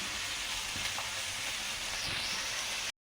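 Okra (bendakaya) frying in a pan gives a steady, even hiss of oil that carries on without a break, with no talking over it.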